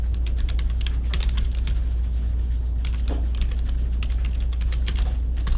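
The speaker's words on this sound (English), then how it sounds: "let's first type the text, and then we'll make it into a lovely title" Continuous keyboard typing on a computer, a steady run of quick plastic key clicks at close range against a low hum, with no one talking.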